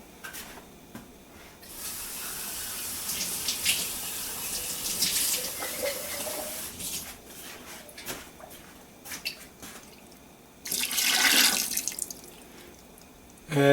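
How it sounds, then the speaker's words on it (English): A cooking pot fills with filtered tap water, a hissing stream from the faucet running in several bursts with short pauses, close and moderately loud, ending in a stronger splash. "And just fill this up with some water."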